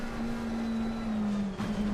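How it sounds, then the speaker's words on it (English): A race car engine in Assetto Corsa Competizione at Mount Panorama holds a high, steady rev with a sustained tonal drone, dipping briefly near the end before climbing back, loud and close. "Bit high on the revs there, Jeff."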